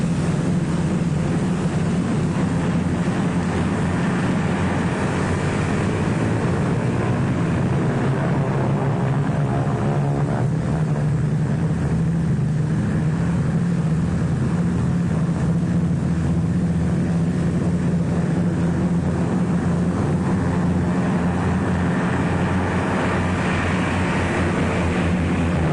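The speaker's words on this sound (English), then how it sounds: "More than a score of United States liberators warm up for the takeoff" More than a score of B-24 Liberator bombers warm up their engines for takeoff on a field in North Africa, a loud, steady propeller drone that holds unbroken throughout with a low throbbing pulse.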